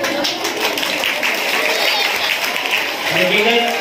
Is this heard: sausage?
no